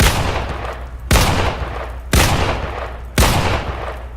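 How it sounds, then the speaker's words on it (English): Four loud, evenly spaced shotgun blasts fired from the hip without aiming in the video game Islands of Nyne, each a sharp boom that rings out before the next shot, about one second apart. "Pretty standard shotgun spread."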